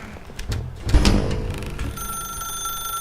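A telephone rings in The Stanley Parable video game, a bright trilling bell that starts after a few thumps and carries on as a steady high ring with no voices.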